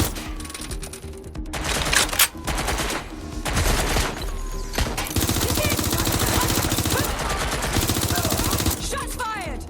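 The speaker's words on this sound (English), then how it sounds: "Shots fired!" Gunfire in Watch Dogs Legion, with sustained automatic bursts and scattered single shots, loud and nearly continuous, broken by a couple of brief pauses before the firing resumes and runs to the end.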